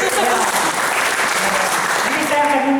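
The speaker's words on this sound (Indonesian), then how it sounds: "boleh kasih tepuk tangan dulu?" Loud audience applause fills a conference hall, a dense wash of clapping with a voice speaking over it near the end.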